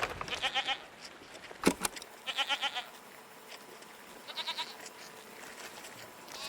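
Goats bleating in the video game Season: A Letter to the Future, several short wavering calls in groups of three or four over a soft outdoor background, with one sharp thump partway through.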